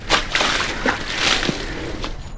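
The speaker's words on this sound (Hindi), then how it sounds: "वो एक एक गाड़ी पर 4-4 बाल्टी पानी डालता है" Buckets of water are poured over a car in a Mumbai housing society, a loud close splash and slosh lasting a couple of seconds.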